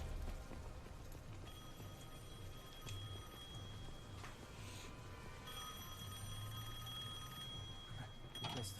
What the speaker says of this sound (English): I guess the phone still works.